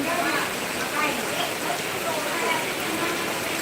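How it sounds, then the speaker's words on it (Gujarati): Heavy unseasonal summer rain driven by strong, storm-like wind pours down in a dense, continuous hiss without pause, fairly loud and close. "અને ખૂબ જ વરસાદ આવે છે અત્યારે"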